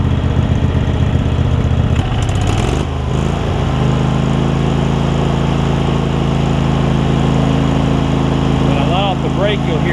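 Craftsman garden tractor engine cranking briefly and catching, then settling into a loud, steady, close idle that runs on without a break.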